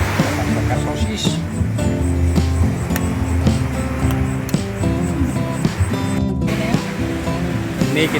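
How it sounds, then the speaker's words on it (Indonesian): Steady wash of rising ocean surf on the beach at Pantai Bercak, Pacitan, with scattered knocks and background sounds mixed in. "Tuh ombaknya udah semakin pasang."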